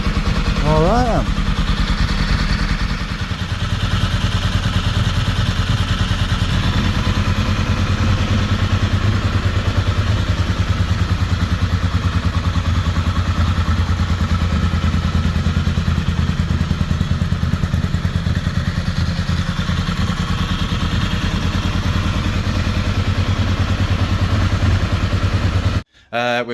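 Ducati 748 motorcycle with new 45mm Termignoni exhausts running, a loud, deep, close rumbling engine note with a steady throbbing pulse that holds for over twenty seconds before cutting off abruptly.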